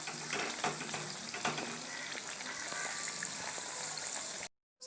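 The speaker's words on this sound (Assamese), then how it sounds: "বস্তুকেইটা অকমান কুৰকুৰিয়া হোৱালৈকে ভাজি ল'ব।" Bora fritters crisping in hot oil keep up a soft, even sizzle with faint bubbling and small crackles, close and continuous, before cutting out abruptly near the end.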